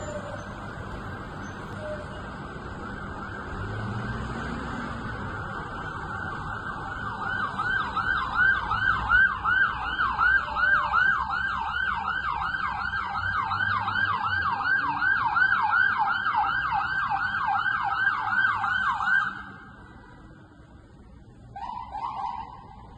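Several fire engine sirens wail together for about twenty seconds, loud and close, with rising and falling tones layered over road noise before cutting off, then a brief short siren burst.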